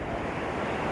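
Steady broadband rush of ocean waves at White Sand Beach in Sabang, Baler, Aurora, with wind on the microphone, continuous and fairly loud over a brief stretch with no voices.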